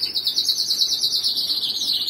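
Breeding birds chirp in quick, high, continuous twittering song over a quiet background, close and steady throughout.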